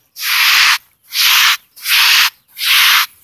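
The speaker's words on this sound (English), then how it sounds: "I'm rubbing my feet to get rid of the buckles" Feet rubbing across roll insulation laid on a flat roof to smooth out buckles, four loud, even scuffing strokes about half a second each with short pauses between, close and alone.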